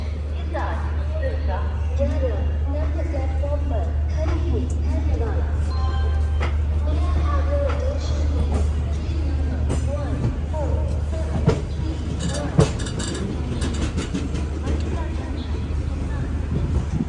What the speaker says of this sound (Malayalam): ഡൽഹി ജംഗ്ഷൻ റെയിൽവേ സ്റ്റേഷനോട് വിടാ.